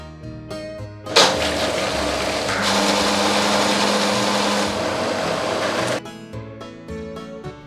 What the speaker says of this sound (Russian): Быстро или заранее взбиваем яйца с помощью блендера или вручную.